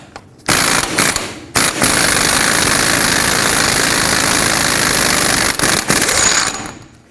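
An impact wrench with a 36mm socket spins off the axle nut on a 2007-14 Chevy Silverado, a loud, close, continuous rattling buzz lasting several seconds with a couple of brief breaks before it winds down.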